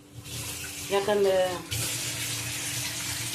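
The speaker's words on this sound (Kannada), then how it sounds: "ಸ್ವಲ್ಪ ನೀರು ಹಾಕ್ತೀನಿ ನಾನು" Water is poured into a pot of sambar made with green gram and spinach, a steady splashing rush that follows a brief spoken word and runs on alone to the end.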